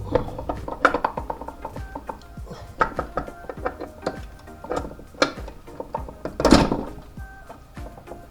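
Differential gears for a turbo K24 swap being lifted and set into the transmission case, close metallic clinks, knocks and ratcheting clatter, with someone talking intermittently over the handling sounds.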